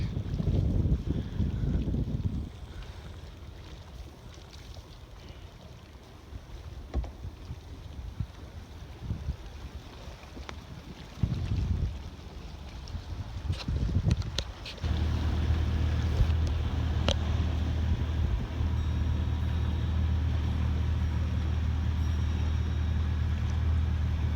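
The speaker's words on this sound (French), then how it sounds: "Voici en route au moteur ralenti" A sailboat leaves a small harbour on the north-east coast of Rhodes under engine at low revs, a steady low motor drone emerging midway amid wind buffeting the microphone and lapping water.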